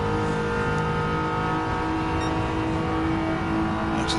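A Volkswagen GTI's engine drones continuously in Gran Turismo 7 sim racing, a steady loud revving hum held under load through a corner.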